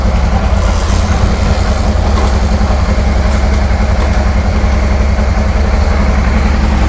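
Honda Transalp 600 (PD06) motorcycle engine running steadily at a low, even idle-like throb, with the gears being worked through during a clutch check; loud, close and continuous, no talking.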